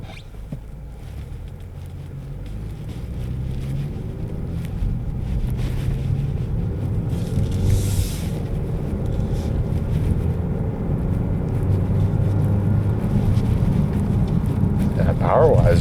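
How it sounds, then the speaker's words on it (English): A 2024 Genesis G70 2.5T AWD Sport Prestige accelerates with a steady, low engine and road drone that builds gradually, heard from inside the cabin with some wind and tire noise. "Power wise, this thing accelerates pretty smooth."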